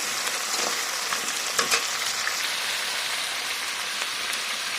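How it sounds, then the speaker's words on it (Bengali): Papaya and potato pieces frying in hot oil with ginger-garlic paste, a steady dense sizzle with occasional crackles and stirring scrapes, close and continuous. "পেঁপে আর আলু দিয়ে দিচ্ছি তেলের ওপরে"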